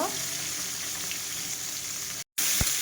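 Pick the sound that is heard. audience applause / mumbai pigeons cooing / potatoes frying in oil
potatoes frying in oil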